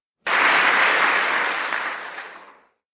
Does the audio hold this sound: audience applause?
yes